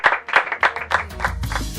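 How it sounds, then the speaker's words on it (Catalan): A studio audience on a Catalan radio programme gives a short burst of applause for a departing guest, crisp close claps in a quick, uneven patter lasting under two seconds. "un aplaudiment per ell"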